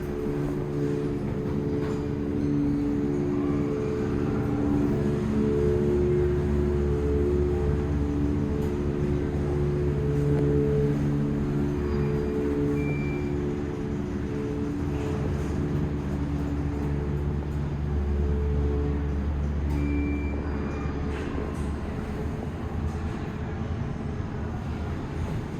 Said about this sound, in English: We're gonna listen to the motor without stopping.